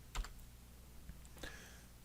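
A few quick key clicks on a computer keyboard while entering text in a Google Drawing, faint and close, in short scattered bursts with quiet gaps between.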